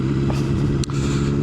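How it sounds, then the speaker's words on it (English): A sports tourer motorcycle cruising on a road, a steady loud engine drone with wind rush and a brief clatter midway, no talk. "I'm on my sports bike. Sorry, sports tourer."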